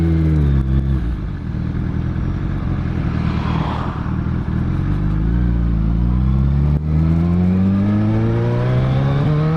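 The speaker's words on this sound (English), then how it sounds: "you can even hear she's ticking over better." A 2007 Suzuki Hayabusa Gen 1 motorcycle engine idling after a throttle body adjustment, loud and close, with a steady low hum and a slight rise in pitch toward the end.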